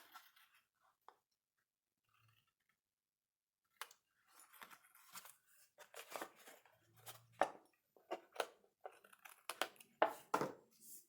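Paper being trimmed for a Poppy Moments fun fold card, a run of close, crisp cutting and snipping strokes that start after a quiet pause and grow denser and louder toward the end, with no talking.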